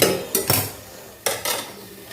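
A lid set down on an iron kadai gives a few sharp, close metallic clanks, two clusters of knocks with quiet between them and no voices.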